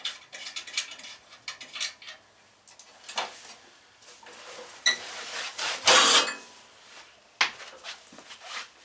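Ratchet loosening hood bolts on a John Deere 318 garden tractor, close bursts of fast clicking pawl strokes with brief pauses and metallic handling knocks between them.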